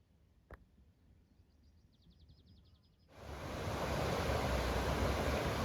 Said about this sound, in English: This is the River Glaslyn.